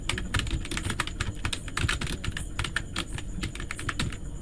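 Typing on a computer keyboard during work in Google Sheets: a steady run of close, rapid key clicks with no talking.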